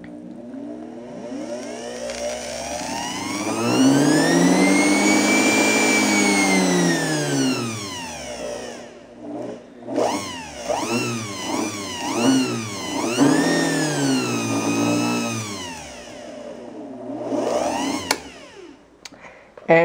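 An old sewing machine induction motor runs on a small speed controller, its whine sweeping up to a high pitch and back down, then wavering through quicker rises and falls before cutting off, loud and close with no talk.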